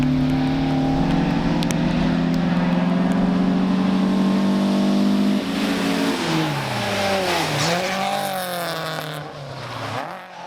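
Rally car at full throttle on a special stage of the Rallye International du Valais between Savièse and Daillon, engine loud and close with sustained high revs, then rising and falling pitch through gear changes as it passes and fades.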